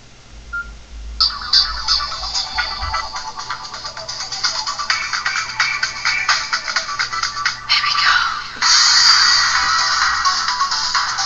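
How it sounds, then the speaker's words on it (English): A cell phone ringtone plays loudly from the handset, a bright electronic melody of rapid repeating tones that shifts into a denser burst near the end. "I'll show you a ringtone if you want."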